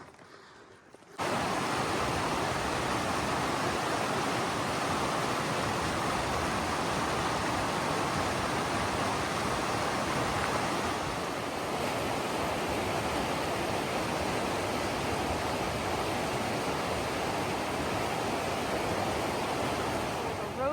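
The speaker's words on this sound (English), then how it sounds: "There's a creek going through the road." A creek flows across a rutted dirt road on a ride to the end of the road, its steady, loud rush of water starting abruptly after a brief quiet moment and continuing evenly throughout.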